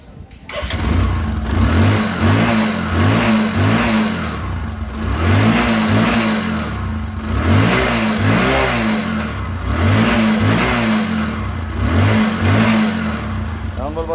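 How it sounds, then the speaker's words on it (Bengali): Used blue 100cc Bajaj Discover motorcycle engine started and revved repeatedly up close, loud rising and falling bursts of exhaust roar in a rhythmic pattern. "এখন দেখো বাইকটির সাউন্ড এবং পারফরমেন্স।"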